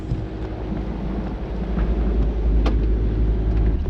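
A small sailboat moving under sail at about four to five knots near Marseille's Calanques, with steady broadband wind rush buffeting the microphone and low water wash running continuously and fairly loud throughout.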